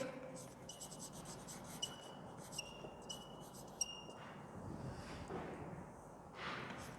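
A teacher writes on a classroom board, faint scratchy strokes in short bursts over a quiet room, with light background murmuring.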